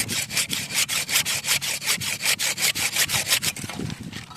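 A garden handsaw cuts through wood in steady, rhythmic back-and-forth strokes, close and loud, with the rasping stopping near the end.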